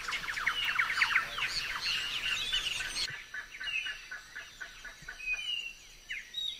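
A lively chorus of many birds chirping and calling, busy at first, then thinner, with scattered whistles and trills nearby.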